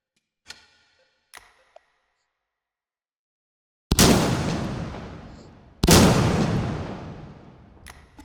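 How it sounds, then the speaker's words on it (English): Two loud booming blasts from a high explosive 12-gauge shotgun shell in the VR shooting game H3VR, each with a long decaying rumble. Faint clicks of handling come first. "the slightly more ridiculous high explosive shell"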